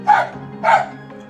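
A dog waiting for fish being cleaned gives two sharp, close barks about half a second apart, the second trailing into a softer whine.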